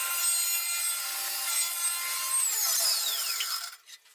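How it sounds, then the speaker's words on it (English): A table saw rips lengthwise through a wooden board, a bright high whine with the rasp of the blade cutting, steady for several seconds before the cut finishes and the sound drops off. "I'm going to take it to the table saw, rip it to, well, I'll rip one side smooth"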